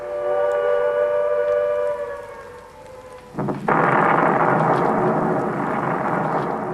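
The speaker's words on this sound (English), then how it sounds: "is the sound of the air raid siren" A wailing siren drones with a steady tone, then a loud rushing roar suddenly swells in and continues, like heavy rain or thunder.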